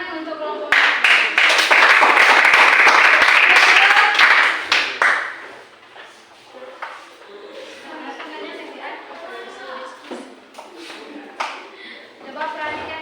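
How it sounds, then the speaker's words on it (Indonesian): Classroom group clapping loudly for the fourth presenting group, a burst of applause lasting about four seconds before fading into scattered claps and taps under people talking. "tepuk tangan untuk kelompok 4."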